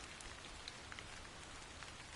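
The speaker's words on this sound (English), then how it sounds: "This must be Earth's rain." Rain falls steadily in the video game Stellar Blade, a soft continuous patter on surfaces with occasional distinct drops. It is faint and heard alone.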